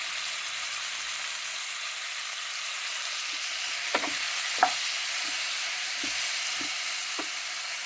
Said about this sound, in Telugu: టమాటాలు మెత్తగా మ్యాష్ చేసుకోవాలి.